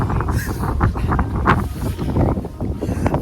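Cold wind rushes steadily across the microphone at a rock pinnacle during a climb, a loud continuous roar with gusty swells and no speech.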